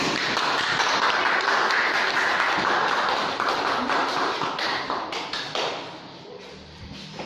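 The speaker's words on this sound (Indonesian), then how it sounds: "Beri tepuk tangan." A class of students in a junior high school Indonesian-language lesson claps together, a dense burst of hand taps that holds steady, then thins and fades toward the end.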